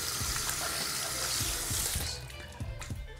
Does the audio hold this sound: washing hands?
yes